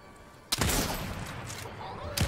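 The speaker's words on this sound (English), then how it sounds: "Is that you who just shot?" Gunfire in the Fortnite video game, a sudden loud burst of shots in quick succession lasting under two seconds, then a second burst starting right at the end, with no talking over it.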